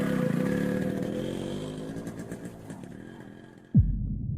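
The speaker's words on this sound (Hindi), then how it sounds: "बाइक स्टार्ट हो गई।" A motorcycle kicked into life for an animated horror story, its engine chugging and throbbing steadily near at hand, fading, then ending in a sudden low thump.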